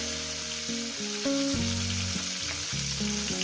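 Pointed gourd frying in oil with onions added, a steady loud sizzle running throughout, joined by a layer of musical tones and slight stirring movements.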